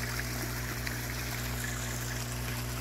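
Water pours steadily from a whiskey cask converted into a garden waterfall beside a koi pond, a soft continuous trickle and splash with a faint low hum beneath, no voices.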